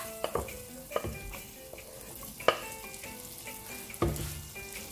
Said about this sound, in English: Our butter is melted. We can add in our garlic first.